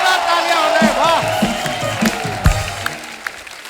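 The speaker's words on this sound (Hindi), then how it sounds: "जोरदार तालियां हो रहे." Studio audience at a comedy show applauding and cheering as the wrestler The Great Khali is welcomed, a steady crowd roar with a host talking over it.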